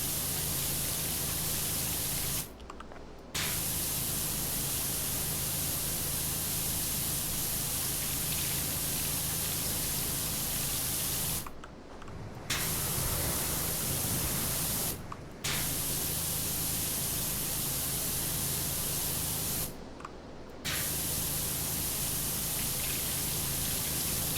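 Steady, loud hiss of a pressure washer spraying a floor in the video game PowerWash Simulator, running continuously with four short breaks where the spray stops and restarts.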